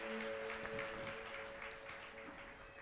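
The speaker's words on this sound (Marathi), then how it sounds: "जोरात टाळ्या वाजवून सर्व गौरव आपण प्रभू येशू ख्रिस्ताला देऊया" A church congregation claps together after worship, a steady, fairly soft wash of applause with a sustained keyboard-like tone held underneath.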